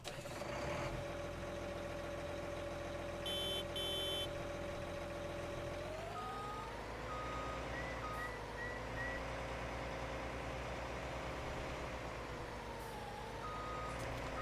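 Case IH Steiger tractor in Farming Simulator 19 running with a steady low diesel drone and a backup beeper sounding over it, the engine note shifting in pitch partway through, with no talking.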